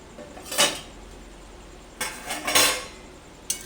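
A lid comes off a pot of muri ghonto and the mixture is stirred, heard as a sharp metallic clank followed by a couple of scraping stirs and a final clink, close and alone.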